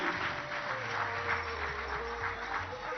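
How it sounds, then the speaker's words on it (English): Distant crowd applause at a political rally, a soft, steady wash of clapping with a low hum underneath, heard from some way off. "A big round of applause for Bamayo Mumbipiri."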